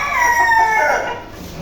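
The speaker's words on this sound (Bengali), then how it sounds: "এখানে আছে একটা মোরগ, 2টা মুরগি" A rooster crows among hens on a small farm with native and Aseel chickens, one hen ill; a loud, drawn-out crow sits close up with soft clucking beneath, and no one talks.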